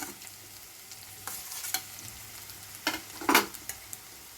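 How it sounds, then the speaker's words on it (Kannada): Boiled potatoes with ginger garlic paste are stirred in a frying pan, giving soft scrapes and a few sharper clinks over a faint, low sizzle. "ಇವಾಗ ಬೇಯಿಸಿರೋ ಆಲೂಗೆಡ್ಡೆನ ಹಾಕ್ಕೊಳ್ತಾ ಇದ್ದೀನಿ"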